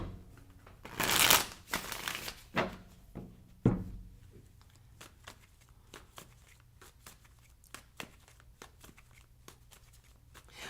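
Oracle cards being shuffled by hand, a few loud riffling bursts followed by softer scattered taps and light card slaps, close and quiet, with no talking.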